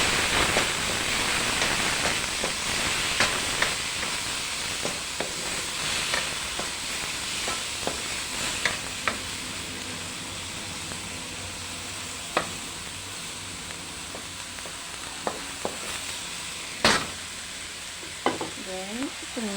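Shrimp and tomato sautéing in a pan for a corn and shrimp dish, a dense, loud sizzle that softens over time, broken by sharp spatula taps and stirring scrapes.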